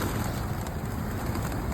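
Pigeons feeding from a person's hand outdoors give soft cooing calls, faint beneath steady wind-like background noise.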